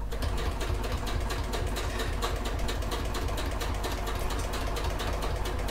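Sewing machine stitching a fabric clutch bag, a continuous rapid mechanical whirr with fast even needle ticks, loud and near, with no talking.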